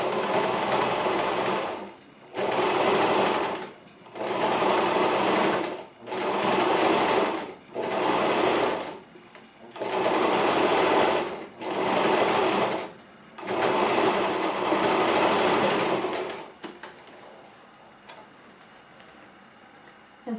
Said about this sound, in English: I'm going to sew just a little seam about 1/8 of an inch to the right of the center seam.